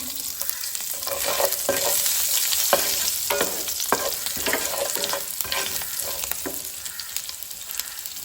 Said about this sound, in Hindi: प्याज जो है ना हल्का सा ब्राउन होने तक हम इसमें फ्राई करके लेंगे।